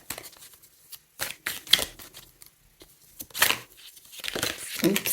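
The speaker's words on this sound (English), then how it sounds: "So let me shuffle." Tarot cards are shuffled by hand in several quick bursts of papery riffling and crinkling, close and fairly quiet, with short pauses between them.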